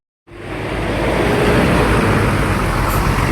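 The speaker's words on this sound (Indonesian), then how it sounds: "Ini udah di dalam bis." A loud, steady engine and road roar fills the inside of a moving bus after a brief silent start, continuous and close with no talk.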